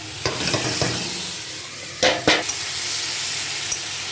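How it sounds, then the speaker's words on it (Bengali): Chopped onion fries in a pan with a constant low sizzle, broken by a few sharp scraping strokes as it is stirred, close by and without talk. "পেঁয়াজটা ভাজা ভাজা হয়ে আসলে ওর মধ্যে আদা রসুন দিয়ে দেবো"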